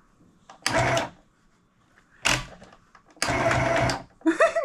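A small toy sewing machine stitches in three bursts of different lengths, with pauses between and a voice in the background.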